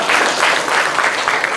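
Brief audience applause at a Suncheon city event in Korea, a steady patter of clapping from a seated crowd at moderate loudness, continuous with no pause over its short span.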